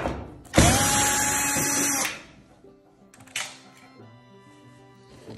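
Power drill backing screws out of the panel of a Maytag gas dryer: one loud, steady high whir of about a second and a half, then a short quieter burst, with faint clatter in between and no talk.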